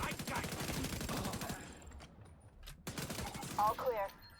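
Rapid bursts of gunfire from shooting in The Division 2, a dense volley followed by a pause and then further shots, with a voice talking over the first part.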